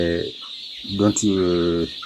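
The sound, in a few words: brooding chicks clucking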